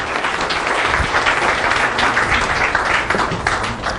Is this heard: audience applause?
yes